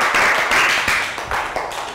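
Children in a Year 3 science class give a brief round of applause, quick uneven claps close by in a classroom, fading toward the end.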